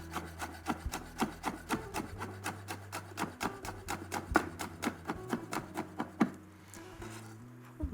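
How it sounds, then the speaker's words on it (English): A knife slicing a garlic clove thinly on a board, giving a quick, regular run of crisp taps and cuts, close and fairly quiet, with a dull low hum underneath and no talk. "I'm just going to thinly slice 1 garlic clove"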